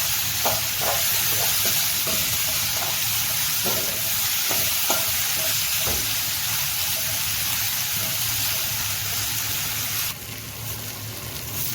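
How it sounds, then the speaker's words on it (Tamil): Ginger and onion sauté in a pan with a little tamarind for onion chutney, a dense continuous sizzle broken by repeated spatula clicks and scrapes, the hiss growing brighter toward the end. "அந்த இஞ்சியும் ஆட் பண்ணிவிட்டு நல்லா வதக்குங்க."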